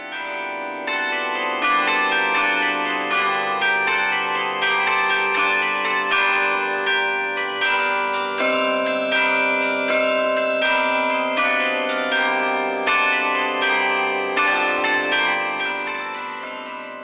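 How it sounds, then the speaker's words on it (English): A building-wall carillon on Rue de la Régence in Brussels rings a dense, steady run of overlapping bell tones, loud and continuous with no talk. "there's a special carillon that features modern statues as figures, which makes the chime a singular attraction even on an international scale"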